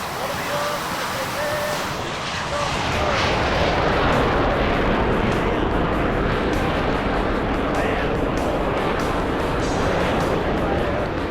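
An F/A-18C Hornet jet in Flight Simulator X on landing approach toward a carrier, with a loud, steady roaring engine rumble that swells slightly as power changes, continuous throughout.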